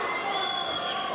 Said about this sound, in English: listen to the Birmingham crowd getting behind Macklin